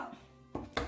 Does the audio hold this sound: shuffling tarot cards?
no